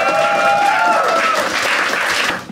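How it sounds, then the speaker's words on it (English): A stand-up comedy audience gives a round of applause, a dense continuous burst of clapping with some cheering tones, fading at the end. "you have to give a round of applause"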